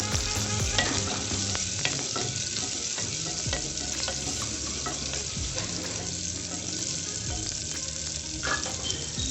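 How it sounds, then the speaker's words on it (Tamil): Cumin seeds and chopped shallots frying in hot oil in a clay pot for a gongura chutney, with a steady close sizzle and crackle throughout and intermittent scraping of a spoon stirring. "சீரகம் பொரிஞ்ச உடனே சின்ன வெங்காயத்தை சேர்த்துக்கிறேன். வெங்காயத்தை நல்லா வதக்கி விட்டுக்கலாம்."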